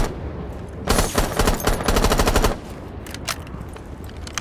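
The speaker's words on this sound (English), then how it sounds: "Might as well shoot through the fucking windows." Automatic gunfire in Rainbow Six Siege shoots through windows in a loud, rapid burst lasting over a second, followed by a few scattered shots against steady game background noise.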